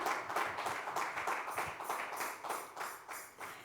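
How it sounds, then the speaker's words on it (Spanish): Church congregation clapping, a faint, rhythmic burst of many hands beating together in an even pulse from start to finish. "Si puede darle un aplauso a Dios."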